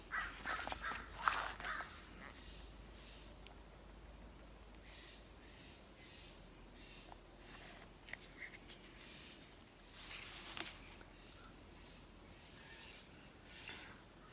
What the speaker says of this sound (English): Birds and traffic are the sounds in my studio on the porch.